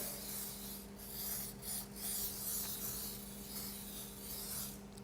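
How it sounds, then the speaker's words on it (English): Soft hissing bursts of coconut oil cooking spray greasing a baking pan, several short sprays in a row, close by and fairly quiet, with faint rubbing between them. "Especially grease the sides really well. This is coconut spray."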